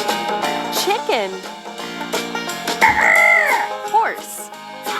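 A cartoon chicken from a children's farm-animal stacking game clucks and crows in a few rising, bouncy calls over a busy, steady musical backing.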